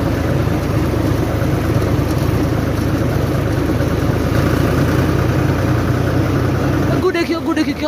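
A tractor engine drones steadily on a night journey, a loud, continuous mid-pitched rumble that stays constant throughout, with a brief change in texture near the end.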